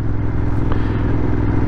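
A Ducati Monster 1200S V-twin engine runs at low revs around 2500 rpm, a steady, loud, close-up rumble with a throbbing low-end pulse throughout, no voices over it.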